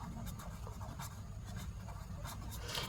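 Pen writing numbers on paper during a class 5 maths lesson, faint rhythmic scratchy strokes in short bursts over a low steady background hum.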